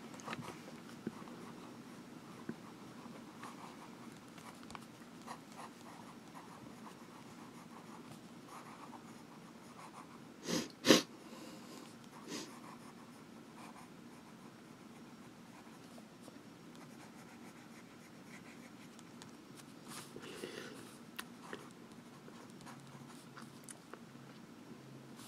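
Visconti Homo Sapiens Elegance fountain pen nib writing on Rhodia paper, a faint, steady scratchy glide heard close and alone, with one brief louder knock partway through.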